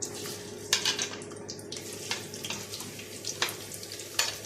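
Chopped onions hit a hot pan and fry, producing a close, steady sizzle with intermittent clattering stirs and scrapes.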